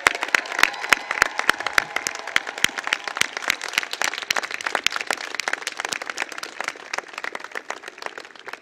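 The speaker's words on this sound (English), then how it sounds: "Give them a round of applause." Outdoor commencement crowd applauding, a sustained patter of many hands with sharper individual claps standing out, fairly distant and tapering slightly toward the end.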